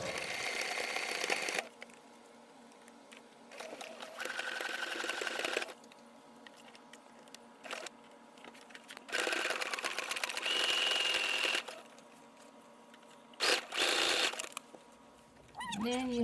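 A sewing machine stitches the sleeve seam of a shirt in several loud runs of steady whirring, stopping and starting between bursts, with a few quiet handling noises in the pauses.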